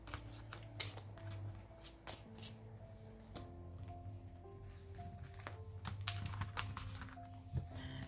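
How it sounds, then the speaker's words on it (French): Small tarot cards are gathered up and put away, making quiet, irregular card shuffles, taps and flicks close by in a still room. "Je vais juste ranger rapidement mes petites cartes"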